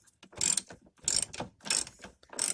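A ratchet wrench tightens a nut onto a bolt, giving four quick bursts of close, crisp clicking at an even rhythm.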